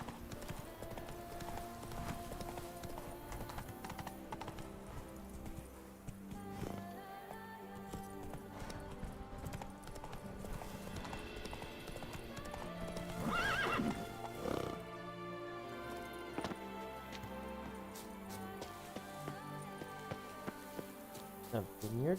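Horse hooves clip-clopping at a steady gallop in The Witcher 3: Blood and Wine, riding through Toussaint, with an occasional neigh, continuous game music underneath and a voice speaking over it.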